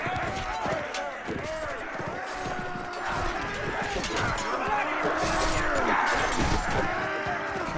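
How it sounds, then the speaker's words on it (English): Horses gallop in a cavalry charge in the video game Caribbean!, a dense, continuous drumming of many hooves with clashing and crashing battle noise layered over it, while someone talks throughout. "Cavalry charge."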